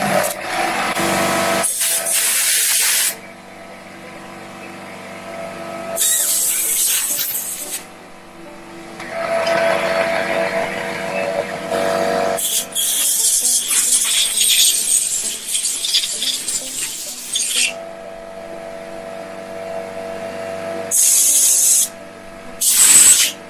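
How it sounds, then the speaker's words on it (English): Air compressor blasting compressed air through the carburetor of a 1973 Evinrude 9.9 hp outboard motor, loud hissing bursts of several seconds each, starting and stopping repeatedly with short pauses between, close up. "See if I can blow that out with the air compressor."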